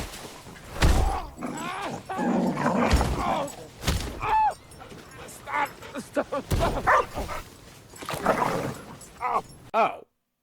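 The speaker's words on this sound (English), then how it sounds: "we reveal his faithful and loyal companion, Krypto the Super Dog!" Krypto the Super Dog, a cartoon dog, barks and yips in repeated bursts with whimpering cries in between, loud and close, mixed with other cartoon sound effects and voices.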